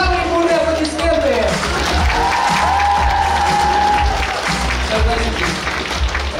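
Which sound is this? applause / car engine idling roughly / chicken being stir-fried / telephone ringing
applause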